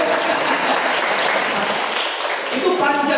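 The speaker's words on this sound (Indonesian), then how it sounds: "Boleh tepuk tangan dong untuk saya" Audience applause inside a church during a homily, a dense continuous wash of clapping that fills the whole stretch at steady loudness.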